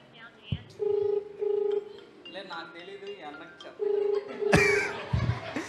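Telephone dialing before a call during a Bible quiz contest: several short, even keypad tones sound in pairs, with laughter and chatter between them and a louder burst of voices at the end.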